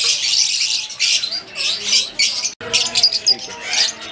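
Lutino pet parrots chirp and squawk loudly and continuously inside a bird shop in Multan's bird market, a dense, bright chorus of calls up close, with voices mixed in.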